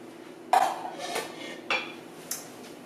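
A metal spoon mixes canned soup in a bowl, giving four distinct clinks and scrapes spaced about half a second apart, close and fairly quiet.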